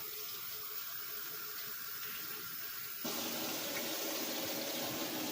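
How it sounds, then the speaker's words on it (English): Water pours steadily into a crock pot while tri-tip cooks, a continuous rushing stream that grows louder and fuller partway through, with no talking. "Now you want to add some more water to it."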